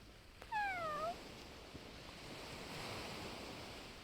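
A cat on a beach path gives a single short, clear meow close by, set against soft, distant surf and light wind.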